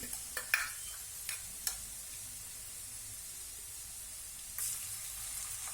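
Ginger garlic paste frying with onions in a pan for street-style tawa pulao, a soft continuous hiss with a few quick spoon taps and scrapes early on and a brief louder sizzle near the end, close but fairly quiet.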